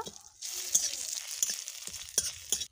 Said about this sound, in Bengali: প্রথমে সর্ষের তেলটা দিয়ে দেবো সর্ষের তেল, গোটা জিরে, থেতো করে রাখা আদা, দুটো শুকনো লঙ্কা, একটা তেজপাতা, সব কিছু ভালোভাবে মিশিয়ে নেব।